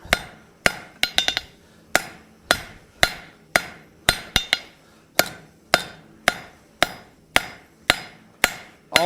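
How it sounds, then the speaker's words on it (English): A hammer forges the hot metal leg of a simple latch, striking in sharp, ringing blows at a fairly regular pace. Some strikes come in quick clusters, for roughly sixteen hits in all, close and clear with no talk. "Okay, got that leg good and hot. Again, time to forge this up."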